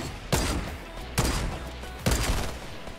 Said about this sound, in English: Just using this sniper as much as possible.